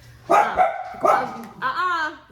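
Several dogs bark in short, loud bursts indoors nearby, followed by a higher whining yip, with no speech over them.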